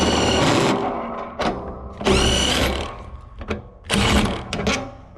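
Ratcheting wrench with a deep well socket tightening a bolt on the throat of a Gleaner combine during a slip clutch rebuild; close, loud bursts of rapid clicking come in several runs separated by short pauses, with no talking.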